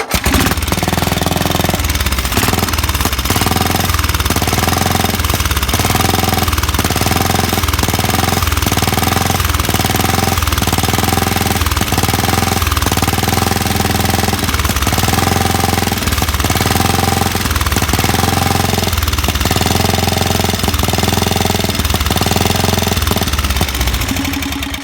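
A 14-horsepower Tecumseh overhead-valve engine from a GT14 riding tractor running with a straight exhaust stack, a loud, steady, choppy thumping idle that pulses rapidly and evenly throughout, very close.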